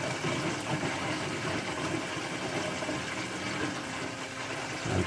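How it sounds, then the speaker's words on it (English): Water gurgles steadily through an over-opened Herbie overflow siphon on an aquarium, a continuous close rushing and bubbling that stays even from start to finish. "I just opened the siphon too much because I just made it gurgle."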